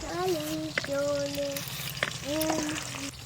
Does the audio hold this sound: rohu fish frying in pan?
yes